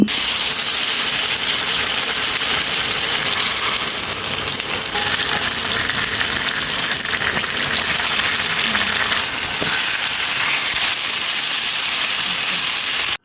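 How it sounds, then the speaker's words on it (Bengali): Rupchanda fish fries in hot mustard oil in a kadai, a loud, constant sizzle and crackle close up that runs without pause, with no voices. "তেলগুলো গরম হয়ে এলে আমি মাছটি সেখানে ছেড়ে দিয়েছিলাম"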